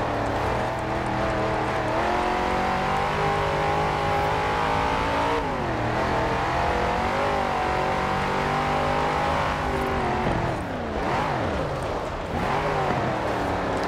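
A 1969 Dodge Charger Daytona in Forza Horizon 4 is driven hard near redline. The engine roars loudly and continuously, its pitch climbing and dipping through shifts and lifts.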